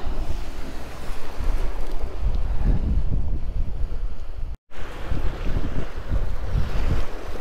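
Sea waves and strong wind on the Taganrog Bay shore at Yeysk, a steady loud roar of surf with heavy wind buffeting the microphone, cutting out briefly midway.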